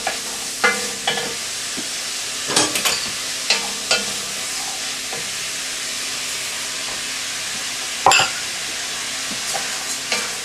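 Rice gets stirred into softened vegetables in a pan for an oven-baked chicken risotto, giving a soft continuous hiss punctuated by several sharp spoon scrapes and clinks up close.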